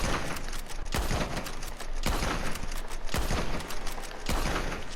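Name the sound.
bolt-action rifle firing in the video game Red Dead Redemption 2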